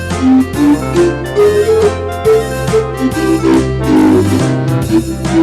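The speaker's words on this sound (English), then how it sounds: "Number 3, an organ type sound." Lowrey electronic organ plays a bouncy tune with an organ-type voice over a steady rhythmic bass accompaniment, no voices.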